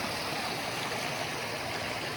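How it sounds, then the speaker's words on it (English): Small waterfalls on Red Creek, an iron-stained mountain stream, pour in a steady broadband rush of splashing water, close and continuous with no voices. "Cool little mini waterfalls."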